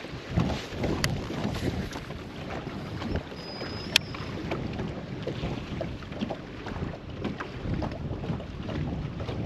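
Wind buffets steadily across open water during bass fishing from a boat near a shallow, low dock. A continuous low rumble with gusty microphone noise holds throughout and is joined by faint small knocks.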